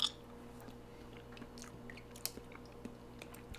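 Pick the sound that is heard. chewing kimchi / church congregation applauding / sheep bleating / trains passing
chewing kimchi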